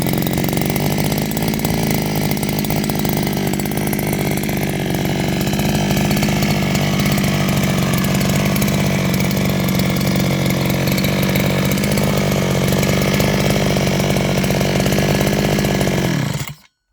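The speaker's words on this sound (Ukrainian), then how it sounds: "Ось приїхали нові двигуни 36-кубові, досить компактні, прості, надійні." A new 36cc 36F brush cutter engine runs steadily at a constant, loud buzzing pitch for about sixteen seconds, then cuts off abruptly at the end.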